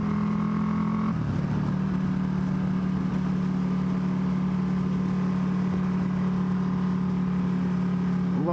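A Buell 1125CR motorcycle engine runs steadily with a low, droning hum and a brief shift in pitch early on, heard continuously and fairly close with road or wind noise over it.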